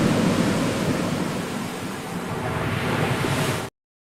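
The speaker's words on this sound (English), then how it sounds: "a nice ship, crashing waves" A synthetic AI-generated effect of a ship amid crashing waves plays as a steady, dense roar of surf and wind, loud and unbroken, cutting off abruptly into silence near the end.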